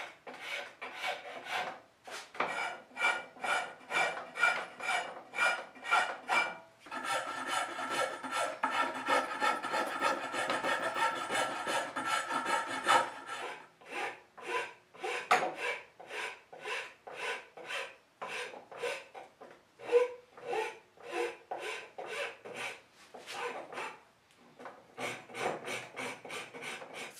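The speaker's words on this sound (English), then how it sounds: "I'm removing all the excess wood from the inner and outer surfaces of the handles" A rasp files a wooden knife handle by hand in long runs of rhythmic scraping strokes, some fast and dense, others spaced, close and steady with brief pauses between passes.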